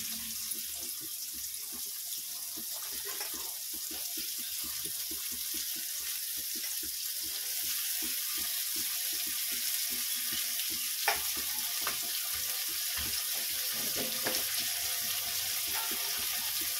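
Carrots fry in oil in a pan, giving a steady, close sizzle with occasional faint clinks and stirring scrapes, and no voices.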